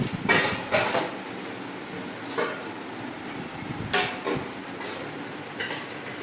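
Plates and utensils clatter while rice is served at home, a few sharp clinks and knocks spaced apart over a low background hum, close and moderately loud.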